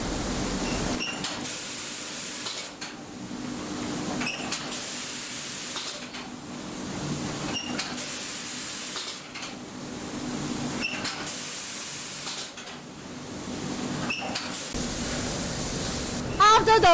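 Automatic spray guns on a painting line apply non-stick coating to inner rice cooker pots in repeated hissing bursts of roughly two seconds, separated by short pauses, with a steady hum from the factory line underneath.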